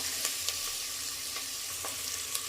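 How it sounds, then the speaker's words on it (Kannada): Onions frying with salt in a pan for mushroom biryani give an even, close sizzle, dotted with a few light spoon taps from stirring, and no one talks. "ನಾನು ಈರುಳ್ಳಿ ಸ್ವಲ್ಪ ಜಾಸ್ತಿ ಹೊತ್ತೆ ಫ್ರೈ ಮಾಡ್ತೀನಿ"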